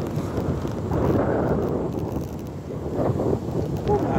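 A cool breeze blows outdoors, buffeting the microphone with a rumbling, gusting roar that swells and eases over a few seconds, fairly loud and close, with no clear talk.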